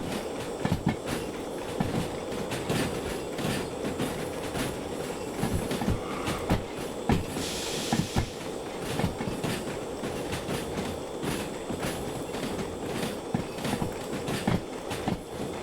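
S282 steam locomotive rolling along rails in the train simulator game Derail Valley, with steady rumbling wheel noise and repeated clickety-clack of rail joints, close and continuous throughout.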